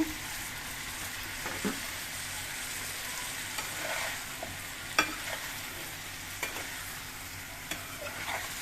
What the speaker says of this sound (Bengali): মূলো আর পাওগুলো একসাথে দিয়ে কষিয়ে নেব।